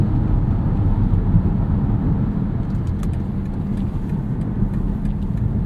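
2023 BMW X1 xDrive28i crossover accelerating under turbo boost, a steady engine drone with road rumble heard from inside the cabin, continuous and moderately loud.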